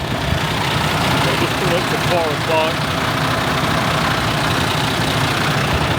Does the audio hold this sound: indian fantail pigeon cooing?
no